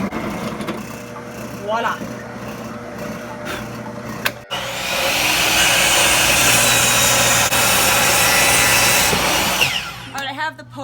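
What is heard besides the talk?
drilling a counterbore hole in wood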